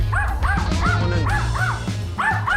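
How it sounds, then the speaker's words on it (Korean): A dog barks abnormally and repeatedly at close range in a home, a rapid series of sharp, strained barks and yelps with brief pauses, loud and unaccompanied by talk. "정상 범위의 짖음은 아니에요."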